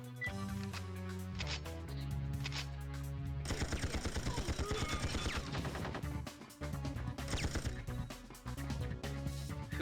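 Rapid automatic gunfire from the PlayStation game 007: Tomorrow Never Dies bursts out in a dense rattling volley for a few seconds, with the game's tonal music playing before and after.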